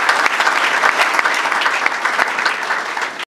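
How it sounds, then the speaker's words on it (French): Audience at a student-organized conference applauding a visiting general, a loud, dense, sustained wash of many hands clapping close by, ending abruptly. "pour qui on doit encore applaudir"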